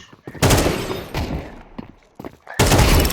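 Gunfire in the video game Counter-Strike 2, with loud bursts of shots near the start, in the middle and at the end, separated by quieter gaps with scattered thuds.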